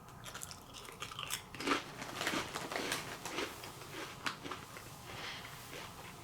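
Herr's Special Hot Stromboli flavored potato chips crunched and chewed close to the mic in a steady run of crisp bites and chews, with no talking.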